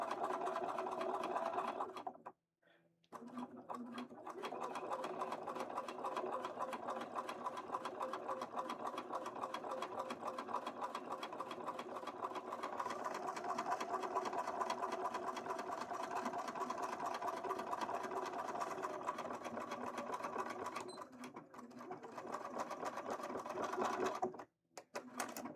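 A sewing machine stitches fabric for a Twilight Princess Link cosplay costume, running in long steady bursts with brief pauses between seams, close and loud.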